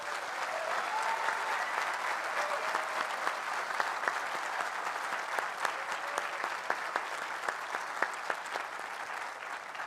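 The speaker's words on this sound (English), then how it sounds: "Let's give them a big round of applause." Sustained applause from a commencement ceremony audience, steady and fairly distant, with a wash of many hands and a few sharper individual claps standing out throughout.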